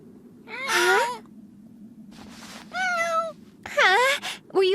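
Cat meowing in three separate drawn-out calls, close and clear, spaced by short pauses over a faint background hum.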